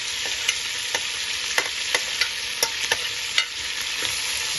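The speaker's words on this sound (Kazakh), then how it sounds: "Етті көбірек қуырып алдым." Meat fries in a pan with a steady sizzle while a utensil stirs it, scraping taps landing every half second or so, close and alone without talk.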